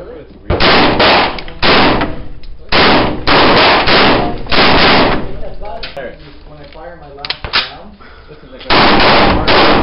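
SKS rifle fitted with a Magwedge magazine adapter fired rapidly outdoors, loud sustained bursts of closely spaced shots in several long strings broken by brief pauses and a few single cracks.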